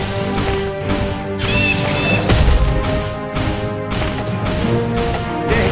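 A blunderbuss fires in the Realm Defense video game, with several loud booming blasts and crashing impacts spaced irregularly over a busy layer of game effects.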